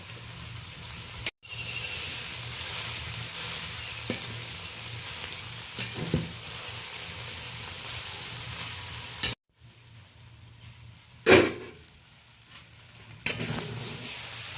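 Chikni greens curry with potato, eggplant and shrimp sizzles steadily in a pan and gets turned now and then. Soft scrapes and a few clinks of the utensil rise over the constant hiss, and the sizzle drops away briefly twice.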